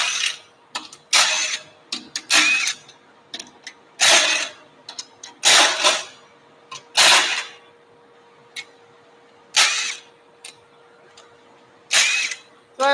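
An impact driver rattles in short, loud bursts as it undoes the bolts on a casting mold, with several separate hammering runs spaced by pauses and a steady hum underneath.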